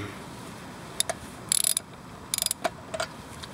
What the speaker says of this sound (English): Get my ratchet on there.